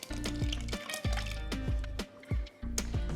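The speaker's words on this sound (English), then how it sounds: "Add your wet ingredients to your dry ingredients" Wet ingredients pour into dry ingredients for cornbread batter. The liquid gurgles and drips in short uneven bursts, close and fairly quiet.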